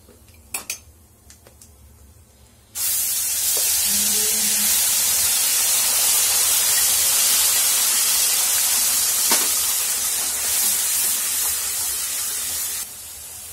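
Mustard-poppy paste for hilsa dropped into hot oil tempered with nigella seeds, a few clinks, then a sudden loud, sustained sizzle and hiss lasting about ten seconds before cutting off, close and without talking.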